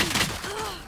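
A short, sharp burst of gunfire lands a headshot in the Valorant video game, loud and close.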